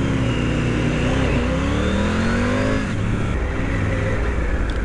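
A car engine pulls strongly from low revs in third gear, its rising harmonic drone loud and close from inside the cabin, with the revs climbing steadily under continuous road noise.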